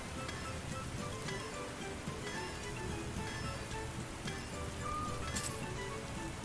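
Rain falling in the medieval blacksmith video game Anvil Saga, a steady dense patter of drops that stays constant and even throughout, with no voices heard.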